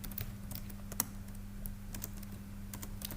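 Computer keyboard keys click in short irregular runs, close and quiet over a faint steady hum, with one sharper keystroke standing out and no voices.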